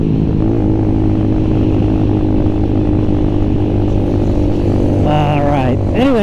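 A KP Mini motorcycle rides through rainy traffic with a loud, steady engine drone close to the microphone, and a rising whine near the end. A rider talks over it.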